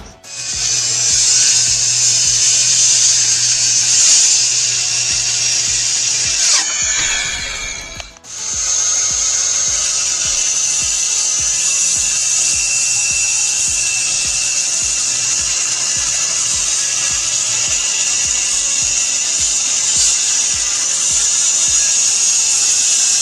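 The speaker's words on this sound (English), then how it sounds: "the bit you see on the drill is called a hole saw bit" A power drill fitted with a hole saw bit cutting during a house renovation, giving a steady high-pitched whirring grind that drops out briefly midway before restarting and running on loudly.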